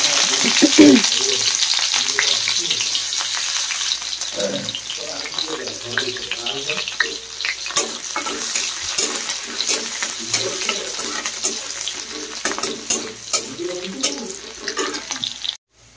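Chopped onions and cumin seeds frying in hot oil in a home kitchen, giving a loud, steady sizzle and crackle for the whole stretch, with stirring scrapes and a faint voice underneath.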